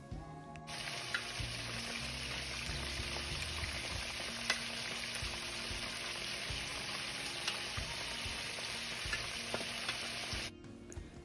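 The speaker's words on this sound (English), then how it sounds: "So now I'll just go ahead and drop the fish into the oil." Fish pieces frying in hot oil, a steady loud crackling sizzle that runs unbroken for about ten seconds, close up with faint spatters and no talk.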